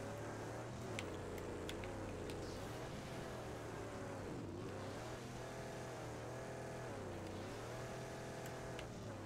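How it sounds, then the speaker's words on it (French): A vehicle engine in the video game Mad Max drones and revs continuously, its pitch rising and dipping in smooth waves as it accelerates and eases off, at a steady, moderate level. "le bruit de moteur des fois qui me fait ce jeu, c'est débile"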